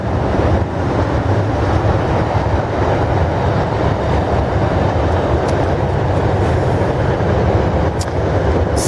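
A Freightliner freight train rolls past close by, its loud steady rumble and rhythmic clickety-clack of wagons going on continuously for several seconds, with no talk over it.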